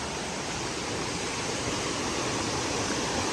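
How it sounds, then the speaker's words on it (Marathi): Saatsada Waterfall roars in a continuous, even rush of broadband noise, loud and unbroken, with no voices. "तर पाहू शकता इथं असा वॉटरफॉल आहे"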